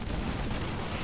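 Video game artillery fire rumbles as a dense, continuous low barrage, a brief wall of booming noise with no distinct separate blasts.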